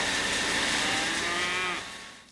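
Dairy cows on an organic Vermont farm give a loud, drawn-out moo close by, one long low call holding for nearly two seconds before fading, with no talking.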